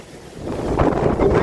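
Strong wind gusts across the microphone at Waikiki, building into a loud, rough low-frequency buffeting roar that swells toward the end, with no voices over it.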